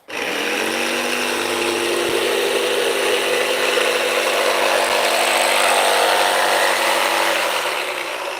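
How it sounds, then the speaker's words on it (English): A jigsaw with a fine blade cuts a slot through finished wood, a loud steady buzzing rasp running unbroken for about eight seconds at close range, with no talk. "Hopefully this jigsaw blade won't splinter this finish."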